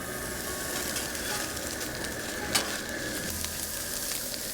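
Sausage sizzles steadily on a hot griddle with butter and garlic, a continuous close frying hiss with one brief sharp pop midway.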